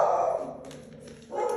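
A pet dog named Bailey barks in the background of a kitchen, giving a single short, fairly loud yelp at the start and another at the end, with a quieter stretch between.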